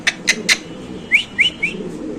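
Mundiyan pigeons in a loft give short calls, three quick bright notes followed by three more slightly lower ones, close and clear with no voices.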